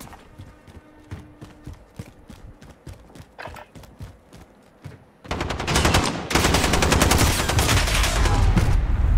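Gunfire in a Call of Duty Modern Warfare multiplayer match: rapid single shots and bursts at first, then sustained, loud automatic fire that grows denser and more intense.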